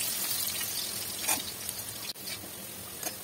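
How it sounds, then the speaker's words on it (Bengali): Boiled potatoes frying in hot oil in a wok give a loud, dense, continuous sizzle with occasional stirring scrapes, close up and with no talk. "কড়াইতে তেল দিয়ে তেলটা গরম হয়ে গেলে আমি সিদ্ধ করে রাখা আলুগুলো"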